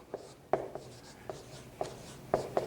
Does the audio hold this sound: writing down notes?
yes